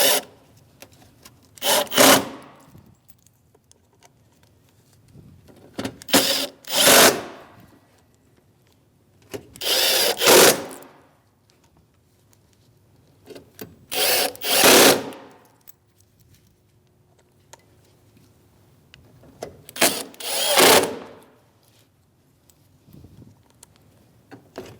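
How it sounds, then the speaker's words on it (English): A power drill drives T15 Torx mounting screws for a headlight assembly on a 2016-2025 Chevrolet Malibu, giving five loud, close bursts of whirring and grinding a few seconds apart with quiet gaps between them and no talk. "Now we can put our mounting screws in. This is for a T15 Torx bit."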